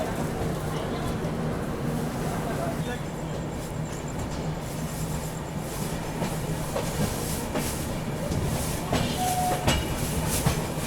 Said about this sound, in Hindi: डिपार्चर हो गया अपना मुंबई सेंट्रल से अपनी मुंबई दुरंतो एक्सप्रेस का